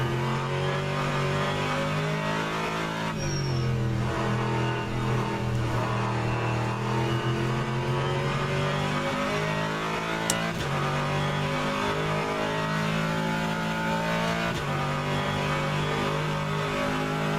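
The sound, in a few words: GT3 race car engine in rFactor 2 video game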